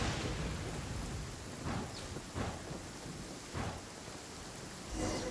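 Steady rain hisses throughout a Genshin Impact thunderstorm while a few thunder rumbles rise and fade over it, without any voices.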